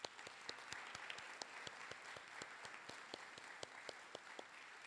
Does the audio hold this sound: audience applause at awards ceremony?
yes